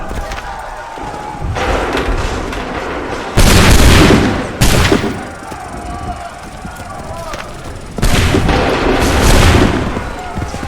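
Musket volleys fire in the video game Assassin's Creed 3, with heavy booming blasts and rolling echoes arriving in separate bursts, loud and close, amid shouted commands and battle noise.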